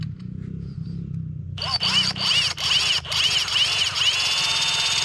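Power drill boring out rivets on a Can-Am using a rivet delete kit, a low hum first, then high whining bursts broken by brief pauses as the bit bites into the metal.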